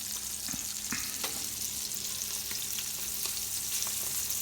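Foie gras with egg frying in a pan, a steady, close sizzle running throughout with occasional small pops and crackles, no voices.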